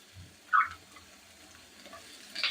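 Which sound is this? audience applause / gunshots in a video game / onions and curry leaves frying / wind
onions and curry leaves frying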